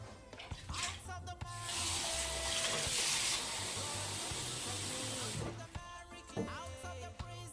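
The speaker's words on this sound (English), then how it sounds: "I'm just going to add more water." Water pours into a pot of lentil porridge being cooked, a steady splashing rush that swells for several seconds and then stops.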